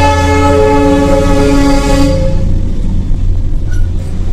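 Darjeeling Himalayan toy train passing along a road, a loud, close, sustained horn blast over rumbling rail noise that cuts off partway while the train keeps rolling by.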